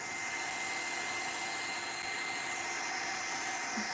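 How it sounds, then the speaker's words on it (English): A handheld hair dryer blows close by while drying craft paste on a gothic box, a continuous, even whirring roar with a steady motor whine and no breaks or voices. "I'm putting the paste and at the same time I'm drying."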